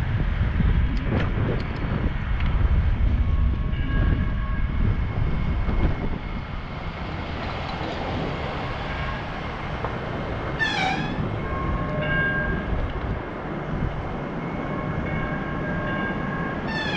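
A train rolls steadily with a constant rumble, and high squealing brake tones rise and linger over the rail noise in the second half.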